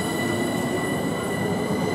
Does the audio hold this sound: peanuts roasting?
no